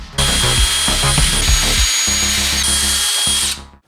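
A power drill bores through the body of a scale RC Toyota Hard Body prerunner truck to mount the bed sides, whining steadily and loudly up close for several seconds, with a couple of brief dips in pitch.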